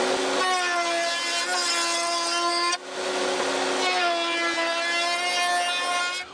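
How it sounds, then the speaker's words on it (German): Router with a round-over bit rounding the edges of a wooden workbench, a loud high whine with steady tonal harmonics, briefly dipping mid-cut before resuming at full pitch. "Und die machen wir jetzt auch mit dem Abrundfräser etwas rund."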